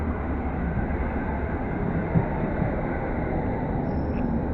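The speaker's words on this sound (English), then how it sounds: "Now is the London Underground Met Line service from Baker Street to Chesham." A London Underground Metropolitan line train pulls out of the station on the Baker Street to Chesham service, a loud, steady rumbling roar of wheels and motors close by.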